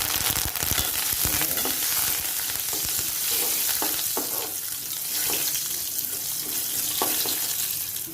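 Curry leaves sizzle and crackle in hot oil over a low flame, a dense steady hiss with a few louder pops and stirring sounds.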